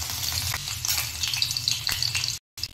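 Chopped garlic fries in hot oil for a chilli egg bhurji: a close, steady crackling sizzle with light stirring, cut off by a brief silence near the end.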